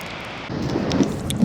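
A thunder clap from a storm rumbles low and broad under rain, swelling after a brief moment and staying loud through the short span.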